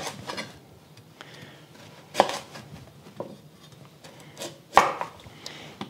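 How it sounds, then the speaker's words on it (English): Two jumbo carrots being chopped into big chunks for a beef stew, heard as sharp, well-spaced knife strikes on a board, a few scattered thuds with two louder chops standing out, close up and with no talk. "I have 2 of these jumbo carrots, and I'm gonna keep the chunks really big"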